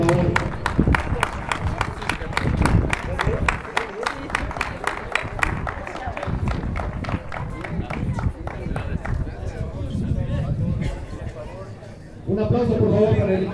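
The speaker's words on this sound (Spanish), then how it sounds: "Un aplauso por favor para el equipo Gus 34." An audience at a school awards ceremony for the Frente Renovación 2022-2023 applauds a third-place team, a run of sharp, regular claps under crowd chatter that thins out and then swells again near the end.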